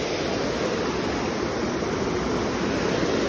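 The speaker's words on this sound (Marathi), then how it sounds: "काय मस्त वाहतंय पाणी." Water rushes steadily over the Powai waterfall in the rain, a loud, unbroken close-up roar of flowing water with no voices.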